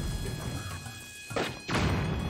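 Bomb flower explosion striking a Boss Bokoblin in Zelda: Tears of the Kingdom, two dull heavy thuds in quick succession over quiet game ambience.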